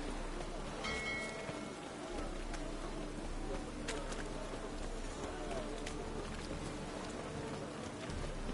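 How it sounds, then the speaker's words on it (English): Steady rain falling in The Witcher 3, a constant hiss of drops pattering on surfaces with occasional louder splashes, continuous throughout at moderate loudness. "The rain is so frequent, it's crazy."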